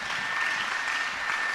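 Steady audience applause fills a university honors society induction ceremony, a dense wash of many hands clapping continuously at moderate level with no voices standing out.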